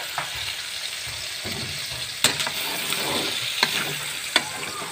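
Chicken for tinola sautés in an oiled pan, sizzling steadily up close with occasional scrapes and sharp clicks from a utensil stirring it.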